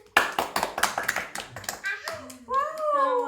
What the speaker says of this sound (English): Clap yourself.